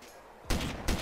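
Two sharp, loud gunshots spaced about half a second apart burst out of near silence during a DayZ Origins game, with no talking.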